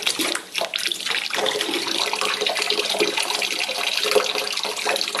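Water runs from a tap at about a quart a minute in a steady, splashing stream. The sound is close and continuous, with no voices.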